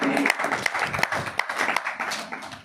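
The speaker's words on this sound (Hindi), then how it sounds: "एक बार ताली बजा" An audience at a Hindi religious discourse claps their hands together, a loose burst of applause with distinct individual claps standing out, the crowd noise thinning slightly toward the end.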